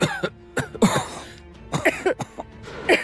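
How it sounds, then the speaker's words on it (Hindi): Someone coughs from smoke and clears their throat repeatedly in short, harsh bursts, close by. "इस धुएं से ऐसे खांसी तो नहीं आनी चाहिए थी।"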